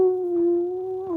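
A pet dog gives a single steady, tonal howl held for about a second, close and loud, with no talking over it.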